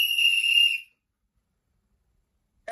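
A single loud, steady whistle by a person, held for under a second and then cut off into silence, with a faint sound returning at the very end.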